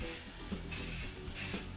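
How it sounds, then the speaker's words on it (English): An aerosol spray can fires several short hissing bursts as the paint is laid down in a cross pattern, each spray loud and close, with a faint rattle between them. "what we're gonna do is we're gonna spray like a cross"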